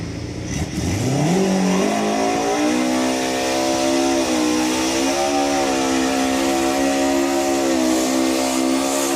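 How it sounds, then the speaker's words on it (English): Race car engine at a track event revving up with a rising turbo spool, the pitch climbing quickly then holding a loud, steady high-revving drone, close and alone. "That turbo spool."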